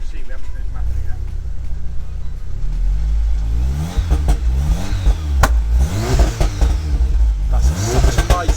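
A tuned 500 bhp Audi S3 with a Scorpion catback and straight-through downpipe revs up close, loud engine climbing and falling in repeated blips, with people talking over it.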